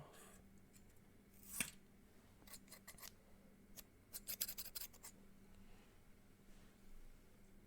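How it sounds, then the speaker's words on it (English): Scissors snipping a small piece, a few quiet crisp cuts and rustles close by, with one sharp snip early and a cluster of cuts in the middle, no talk. "I actually need to cut a tiny bit more off"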